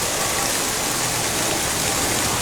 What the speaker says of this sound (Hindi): देखिए कितनी तेज़ी के साथ बरसात है